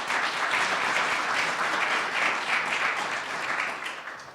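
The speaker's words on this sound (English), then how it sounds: "Please, a round of applause for our board members." Audience applause for the board members at a venture incubator demo day fills the room as a steady, dense wash of many hands clapping, holding evenly loud before tapering slightly at the end.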